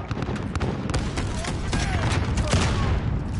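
Rapid gunfire in the shooter game Call of Duty: a fairly faint, continuous volley of overlapping shots and bursts with a dense, crackling texture.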